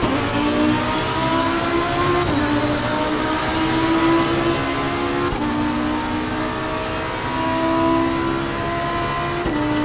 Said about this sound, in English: it's because the engine noise is blaringly loud in my headphones